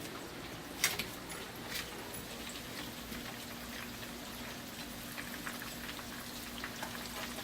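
Shrimp cakes sizzling faintly in a pan as they are turned, a steady soft crackle and hiss with a couple of small taps near the start.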